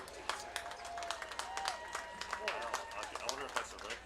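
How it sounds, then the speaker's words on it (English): At a high school football game, the crowd applauds the Lawrence County High School Big Gun Machine band, with distant, steady clapping spread across the stands and voices and a public-address sound over it. "please give a round of applause for the Lawrence County High School Big Gun Machine"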